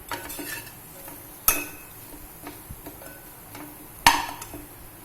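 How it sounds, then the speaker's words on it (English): Masala for lal dal is fried and stirred in a pan, with a soft background sizzle under occasional scraping strokes and two sharp metal clinks of a spoon against the pot. "Fry for about a minute so that the essential oils of the masala come out nicely."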